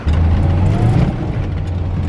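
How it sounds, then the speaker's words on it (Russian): A VAZ Zhiguli built for competition rolls over speed bumps, its engine giving a steady, loud, close low drone with a slight swell near the middle and no distinct thumps from the bumps. "Так, проверка лежачими полицейскими."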